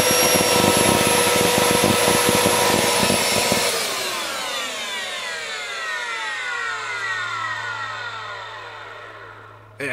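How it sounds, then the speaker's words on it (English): A Dyson DC14 vacuum cleaner with a burnt-out motor roars loudly at close range for about four seconds, then shuts off, its whine sliding downward as the motor spins down with a lingering low hum. "It has the unmistakable sound of a burnt out motor."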